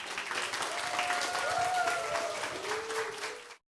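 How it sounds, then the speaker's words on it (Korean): An audience at a Korean disability-rights talk event gives a warm round of applause to welcome the guest. The dense, even clapping goes on for about three and a half seconds and then stops abruptly. "큰 박수로 맞이해 주세요"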